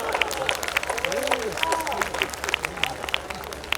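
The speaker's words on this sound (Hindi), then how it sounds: "तालियां वालियां एक बार बजा दो।" An audience at a comedy poetry show claps and cheers in a dense, steady burst of applause lasting a few seconds. A voice speaks over it.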